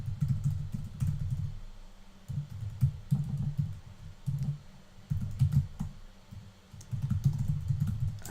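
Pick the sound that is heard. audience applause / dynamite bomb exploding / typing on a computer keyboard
typing on a computer keyboard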